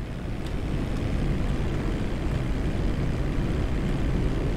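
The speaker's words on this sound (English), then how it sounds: "That's the plane taking off right now." A large cargo plane takes off in GTA Online, a loud, steady low engine roar that holds evenly throughout with no talk over it.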